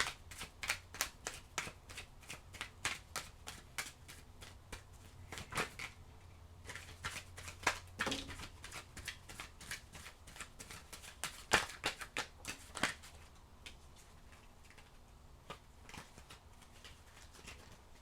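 Oracle cards riffled and shuffled by hand up close, a long run of quick crisp flicks and slaps in uneven bursts, fading to softer shuffling near the end; no talking.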